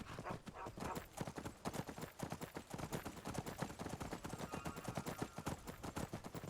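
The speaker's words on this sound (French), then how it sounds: "Ah non, c'est les impériaux, ils sont à cheval et tout." Horses of Imperial soldiers gallop in the Skyrim video game, giving a dense, steady clip-clop of many hooves that carries on throughout, loud and close.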